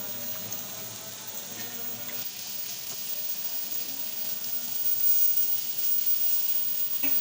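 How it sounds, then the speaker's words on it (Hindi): Chopped onions sizzling in hot oil in a pan as they fry toward light brown, a steady, dense crackle that holds for several seconds with only slight stirring shifts. "लाइट ब्राउन कर लूंगी मैं यहाँ पे प्याज को"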